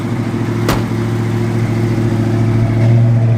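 A 1970 Ford Mustang Mach 1 V8 runs with a lumpy cam, loud and close. The steady idle throb pulses unevenly with a choppy rhythm, a short sharp click comes early, and the note swells slightly near the end.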